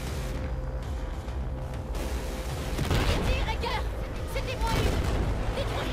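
Battlefield 4 gunfire rattles in a dense fusillade of rapid shots and booms, growing louder in the second half over a busy battle background.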